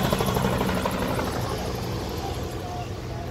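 A Draco STOL aircraft with a 680-horsepower PT6 turbine engine runs steadily and loudly throughout, a continuous roaring drone with a whining edge, while voices talk faintly underneath.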